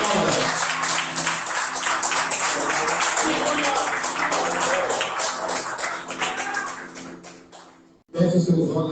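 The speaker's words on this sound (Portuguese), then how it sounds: "Aplauda o Senhor Jesus. Aplauda." A church congregation applauds together during a worship service, a dense steady wash of many hands clapping that fills the space for about eight seconds, then cuts off abruptly before a brief burst of louder sound.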